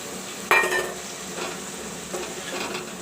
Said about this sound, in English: the masala is frying and the tomato also is almost cooked up